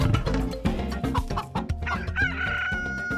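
Chickens cluck and a rooster crows over music in a children's Cebuano creation story, with several sharp, close clucks followed by a sustained crow.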